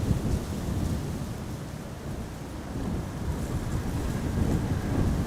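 A deep, broad roar of an airliner's thrust reversers on landing at Amsterdam Schiphol Airport swells and fades in waves, rumbling with wind-like noise and no speech.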